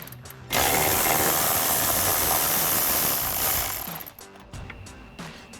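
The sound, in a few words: removing the last mirror mounting nut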